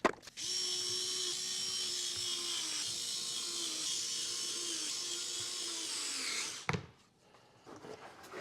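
A power drill drives a screw to fix a 3D-printed TPU chip shield panel for a milling machine, running loud and steady for about six seconds with a slight pitch dip, then stopping abruptly before faint handling noise.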